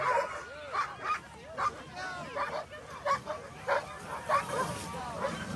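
Sled dogs bark, yip and whimper in repeated excited bursts at the start of the 2022 Willow 300 mid-distance sled dog race, a chorus close by with a person talking over it.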